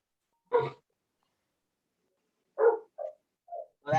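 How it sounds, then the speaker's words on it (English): A dog barks during a commission meeting, one sharp bark, then after a pause a second bark followed by softer short yips, close and clear with no talk over it. "We hear a dog."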